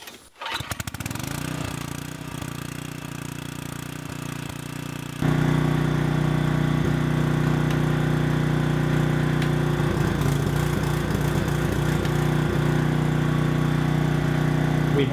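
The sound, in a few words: small engine running after using carb cleaner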